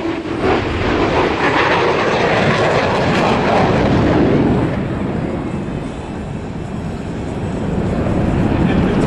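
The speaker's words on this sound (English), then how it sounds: "During the straight pass, the pilot will align the target under the crossbar." A fixed-wing airplane making a straight pass at an air show, its loud broadband engine roar sustained throughout, swelling slightly mid-pass and easing before rising again.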